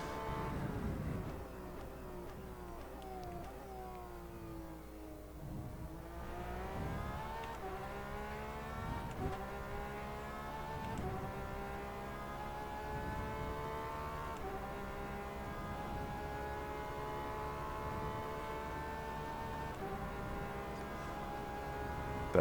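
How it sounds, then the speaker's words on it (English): A race car's transmission whines with a steady buzzing tone in the rFactor 2 racing game, rising and falling as the engine revs through gears, continuous and prominent with no talk. "That iconic buzzing sound from the transmission is very much present."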